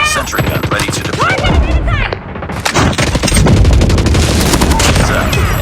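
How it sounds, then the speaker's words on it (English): Rapid automatic gunfire from a deployed sentry gun during a Call of Duty Mobile ranked Domination multiplayer match, dense bursts of shots with brief gaps, loud and close, mixed with other battle effects. "Sentry gun ready to deploy."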